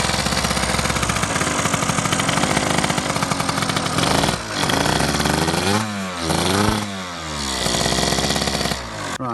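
A Yamaha Aerox scooter with a newly repaired exhaust gasket runs close and loud, its buzzy two-stroke drone revving up and down in sweeping bursts midway before settling back to a steady idle.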